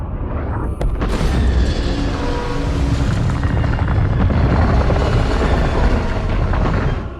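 A 15-megaton nuclear warhead from an R-36 missile detonates over San Francisco as a loud, sustained roaring rumble, a dense blast that holds steady for several seconds before tailing off.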